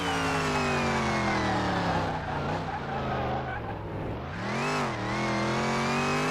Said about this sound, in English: I'm still wheel spinning in third gear.